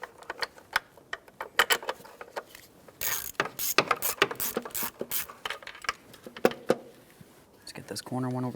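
A socket ratchet clicks in short, quick runs while starting a throttle body mounting bolt on a 2.0L four-cylinder Ford Fusion, close and crisp with brief pauses between strokes.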